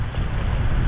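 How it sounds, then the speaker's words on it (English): Strong wind from Hurricane Beryl in a flooded Houston neighborhood roars steadily and close, buffeting the microphone in a continuous broadband rush with no voices. "The wind is pushing it."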